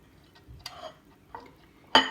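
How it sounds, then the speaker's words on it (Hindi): Spices for Peshawari chapli kabab, including crushed pomegranate seeds, mixed in a bowl: a few soft scrapes and light clinks of a utensil against the bowl, ending with a sharper clink, no voices. "ये सारे मसाले हम मिक्स कर देंगे।"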